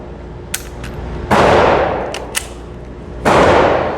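A Glock 44 .22LR pistol fires two sharp, close shots a couple of seconds apart, each followed by a long decaying echo, with a few faint distant pops in between.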